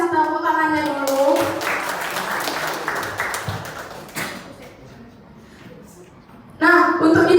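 An audience applauds a speaker at a talk, a broad wash of clapping from about one to four seconds that thins out, with a presenter's voice before and after.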